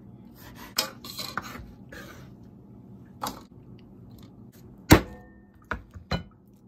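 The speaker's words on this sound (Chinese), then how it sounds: "然后我们切少许的青红辣椒， 把它切成小粒小粒的" A knife chopping green and red chilies into small pieces on a board, a handful of scattered sharp taps and knocks with quiet gaps between them.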